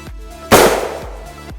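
A 6.5 Grendel rifle fires a single 123-grain Sabre Blade black-tip round into ballistic gel outdoors, a sharp loud crack followed by a brief decaying echo.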